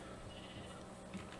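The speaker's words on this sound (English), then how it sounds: "I hear you, sheep." A sheep in the video game Minecraft gives a single quiet bleat, faint and brief against a low background.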